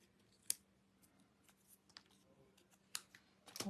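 Scissors cut paper for a handmade card in quiet, close snips: a crisp cut near the start, a few soft ones in the middle, and a quicker cluster toward the end.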